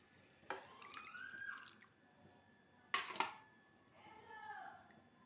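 Water left from marinating chicken is poured into spices for a chicken vapa dish in two short, splashy pours a couple of seconds apart, each trailing off into a soft trickle.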